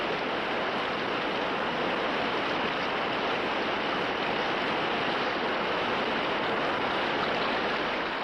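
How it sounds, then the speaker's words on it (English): A steady, full roar of rushing white water pours on without pause, dense and close like a fast creek churning over rocks, during a log drive. "It's a wonderful sight to see the white water boiling down, carrying our logs for us."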